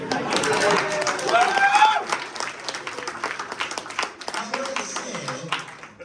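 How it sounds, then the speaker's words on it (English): A room full of wedding guests breaks into applause during a best man speech, dense clapping that swells then eases, with some cheering and voices mixed in. "can we have a huge round of applause for Tony"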